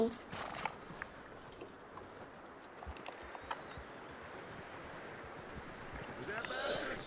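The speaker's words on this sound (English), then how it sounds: "That looks like a decent horse." Horse hooves clip-clopping in an open-world western video game, a faint, steady trotting rhythm running beneath game sound and voices.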